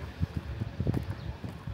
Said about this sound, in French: Il y a un peu de vent, désolé.